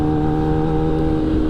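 A Kawasaki ZX-10R sports bike fitted with new titanium headers revs close by, a loud steady engine drone with a strong tonal hum and no pauses or speech.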